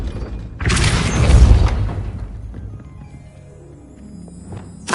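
Depulso spell cast in Hogwarts Legacy: a sudden loud forceful blast bursts out and rumbles for about a second, then decays into a softer mechanical clatter and fading tones, with a small pop at the close.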